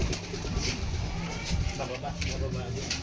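Racing pigeons coo softly at their loft in Tiaong, Quezon, repeated low burbling calls close by, mixed with people talking and faint vehicle noise.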